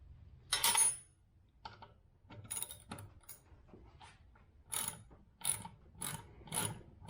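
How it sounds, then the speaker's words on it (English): Tool being ratcheted while cutting threads in a hole, with a series of irregular clicking and grinding bursts, some louder and sharper than others, close up with no talking. "these holes in the insert do all your thread cutting"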